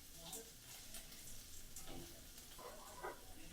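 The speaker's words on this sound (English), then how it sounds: "I'm going to drop in the curry leaves." Curry leaves dropped into hot oil in a pan, giving a steady close sizzle with scattered light pops and crackles over 3–4 seconds, no voices.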